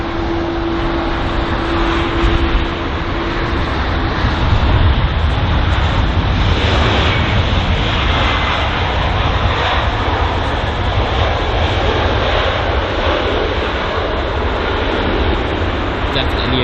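A British Airways A320 lands at London Heathrow, heard as a loud, steady, wind-like roar that fills the whole stretch without letting up.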